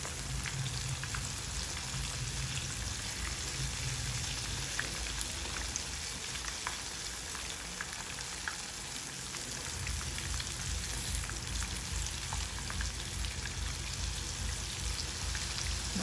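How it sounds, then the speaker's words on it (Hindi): Fish sizzles steadily in hot oil over medium heat, a continuous close crackle and spatter for a Lahori fried fish, with no talking. "मीडियम हीट पर इसको आप अच्छे से फ्राई करें"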